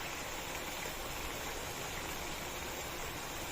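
Chicken boiling in a pot of water on medium-low heat, a steady, dense bubbling rush with no pauses, fairly loud and close.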